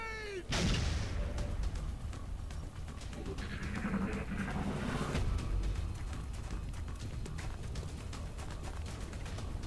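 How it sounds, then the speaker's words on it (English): Gunfire in the video game XCOM during a soldier firefight: booming shots and rattling bursts come over a dense roar of battle, with a swooping tone at the start. "We're taking fire from multiple X-rays!"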